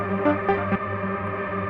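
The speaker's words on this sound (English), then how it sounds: "Freezes the whole of the reverb." Soundtoys SpaceBlender reverb with freeze engaged holds a sustained, shimmering wash of tones that hangs steadily after a few brief swells, with no voice.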